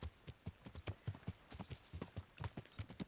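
Steady rhythmic clip-clop of horse hooves in Kingdom Come: Deliverance, a quiet even trot of many regular hoof falls continuing throughout, with no talking.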